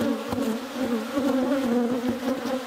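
Honey bees buzz around a freshly split beehive full of brood, a dense steady hum close by that carries through the whole stretch with no voices.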